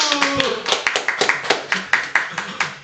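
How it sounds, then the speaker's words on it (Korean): A small group gives brisk applause indoors, with a run of quick, close hand claps that fade out after about three seconds, and a voice is heard at the start. "박수"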